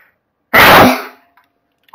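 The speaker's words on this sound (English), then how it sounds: "I'm going to sneeze." A single sharp, loud human sneeze bursts out close to the microphone, lasting about half a second before fading into quiet.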